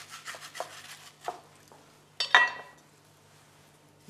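Soft rubbing and scraping as skin is pulled off a salmon fillet by salted hands, a few quiet strokes followed by a brief louder scrape, close and faint.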